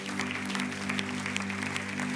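A church congregation applauds, a steady wash of clapping that holds at moderate level throughout over a faint sustained musical hum, with no voice on top.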